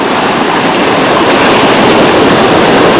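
Ocean waves roll and wash onto the beach at Sea Isle under whitecaps, a steady, loud broadband roar of surf with faint wind on the microphone and no speech.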